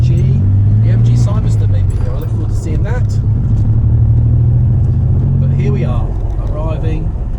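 A car, likely a classic Ford Capri or Cougar, pulls into a Ford, Renault, Peugeot and MG dealership, its engine rumbling steadily and close throughout, with a person talking over it.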